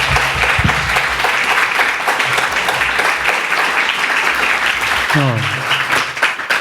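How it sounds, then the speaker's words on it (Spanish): An audience applauds an author at a public library talk, a loud continuous patter of clapping that fills the whole stretch, with a voice speaking briefly over it near the end. "Un aplauso para él."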